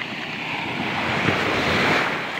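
Rough sea surf washes against the shore at a fishing village, a continuous rushing wash with wind buffeting the microphone, swelling slightly and then easing, with no voices.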